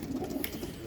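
Racing pigeons coo softly at a loft during a young bird race, with a low murmuring coo under faint ambient noise and a brief higher chirp midway.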